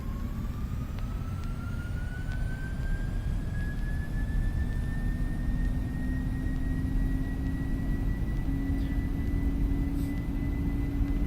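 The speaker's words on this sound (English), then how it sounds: "I'm gonna spool up the engines" Simulated Boeing 767 freighter jet engines spool up for takeoff in X-Plane 12, a steady loud roar with a rising whine climbing throughout, continuous and alone.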